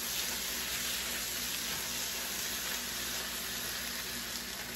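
Dense, even hiss of butter sizzling in a hot wok, loud and close, continuing steadily without pause.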